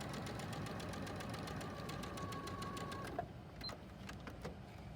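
A sewing machine stitches fabric in a steady, continuous whir and clatter up close for a few seconds, then stops, leaving faint clicks and handling noises.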